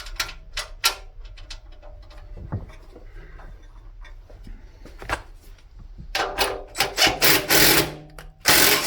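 Ratchet wrench working on an oil cooler exit tin for a VW engine, with bursts of quick clicking ratchet strokes, sparse at first and then dense and loud near the end.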